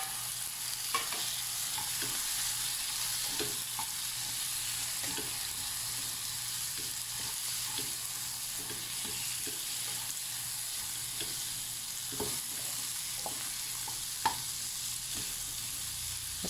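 Shrimp fry in a pan for Filipino pinakbet, giving a steady close sizzle with scattered soft stirring clicks and scrapes throughout, and no talking.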